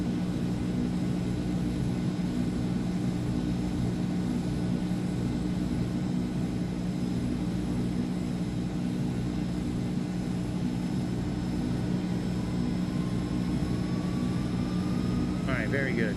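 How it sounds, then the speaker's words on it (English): Twin jet engines of a PMDG Boeing 777 idle after start-up in an Xbox flight simulator game, giving a loud, steady, unbroken whining roar that fills the whole stretch. "The engines even sound good now."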